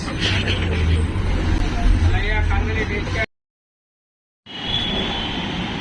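A bus moving through Mumbai traffic gives a deep, steady engine rumble from inside, which cuts to total silence for about a second before the same drone returns.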